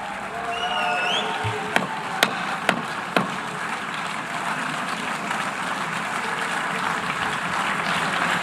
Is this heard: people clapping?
yes